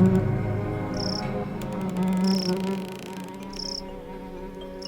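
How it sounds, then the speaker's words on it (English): A steady insect drone and buzzing of flies in a camp scene from the video game The Darkside Detective, continuous and fairly loud, with short high electronic chirps rising above it. "Bugs. I guess that's the closest thing there is going to be to a nightclub for flies."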